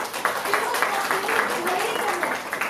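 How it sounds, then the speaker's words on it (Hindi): Audience applause at a book launch event in Delhi: a steady wash of many hands clapping together, heard throughout under a faint voice talking. "तो एक बार जोरदार तालियां दीदी जी के लिए।"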